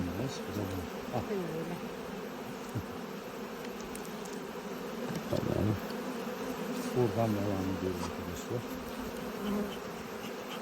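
Steady honeybee buzzing from a busy hive, dense and continuous, with someone speaking briefly over it.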